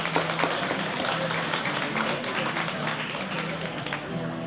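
Sustained applause from a festival audience at an outdoor music festival hosted with local firefighters, dense and steady throughout with a few sharper individual claps standing out and faint voices mixed in.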